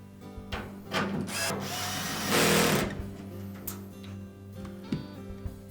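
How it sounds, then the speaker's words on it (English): A power screwdriver drives screws to fasten the back panel of a Frigidaire washer, giving a few short whirring bursts with one longer run in the middle, close and moderately loud, with small clicks and no talking. "secure it with screws on either side"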